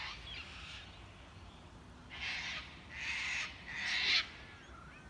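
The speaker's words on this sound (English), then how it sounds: "It's a big white cockatoo." A big white cockatoo gives three harsh, rasping squawks in a row, each about half a second long with short gaps between them, at moderate distance outdoors in Australian bush against a quiet background.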